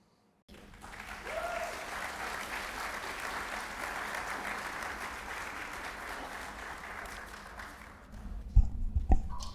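An audience at a community meeting breaks into sustained applause, starting abruptly and holding steady for several seconds before fading, with a few louder knocks near the end.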